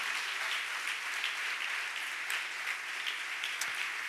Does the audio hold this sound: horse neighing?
no